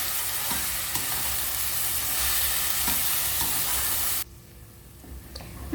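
Ginger, garlic and tomato sautéing in a hot pan, producing a steady loud sizzle with stirring scrapes that suddenly drops to a quieter hiss partway through.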